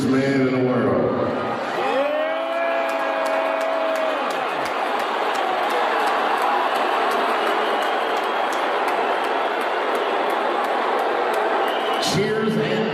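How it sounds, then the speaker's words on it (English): A live arena crowd at a Dave Chappelle show in San Francisco erupts in sustained, loud cheering mixed with booing for Elon Musk, a dense roar that fills the space after a brief opening announcement. "Cheers and boos, I see."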